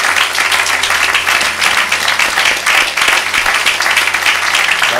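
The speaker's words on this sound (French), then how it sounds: "Je veux juste qu'on acclame pour elle." A church congregation applauds, a dense, sustained wash of many hands clapping that stays loud and even throughout.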